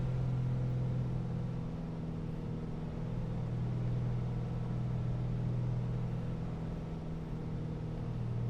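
Steady droning piston engine of a Piper Comanche 250 in the Prepar3D flight simulator, a loud, continuous low hum with strong tonal harmonics holding constant as power comes back.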